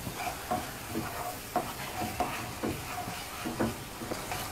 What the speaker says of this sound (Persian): همش بزنید تا آردایی که گلوله شده حل بشه